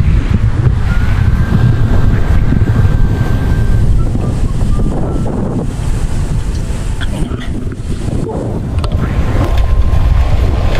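Sea waves roll onto a beach in General Nakar, Quezon, a loud continuous wash of surf heavily buffeted by wind noise on the microphone, with no clear voices over it.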